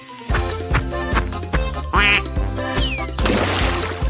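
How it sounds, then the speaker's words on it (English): Cartoon farm ducks quack in a lively series of calls over a bright, tinkling musical backing, with no one speaking. "What cute ducks!"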